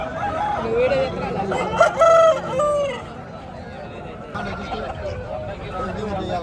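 Chickens cluck and a rooster crows amid the busy Nallapadu Friday market, where ducks are also sold, with people talking close by throughout.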